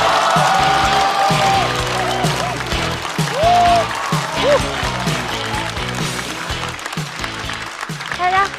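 A studio audience at a stand-up comedy show claps to welcome a performer onstage, and the applause runs under loud tonal music with a strong beat.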